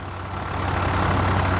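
A tow truck engine idles in a steady low rumble, close and continuous, with no talk over it.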